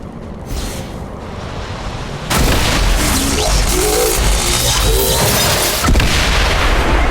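Explosion in the video game XCOM 2 blasting away a soldier's cover, starting with a sudden loud boom that gives way to a sustained crackling, rumbling wash of debris, followed by a second swell near the end.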